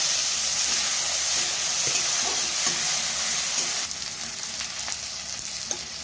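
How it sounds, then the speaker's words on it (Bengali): Chopped tomatoes and green chilies fry in a pan with a loud, close, steady sizzle. Occasional stirring scrapes come through, and the hiss drops somewhat partway through. "টমেটো কুচানো আর কাঁচা লঙ্কা ফুটানো"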